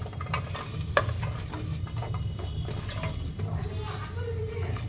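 Spinach stems and vegetables sizzling and frying in a pan while being stirred, with scraping stir strokes over a steady sizzle and a voice talking alongside.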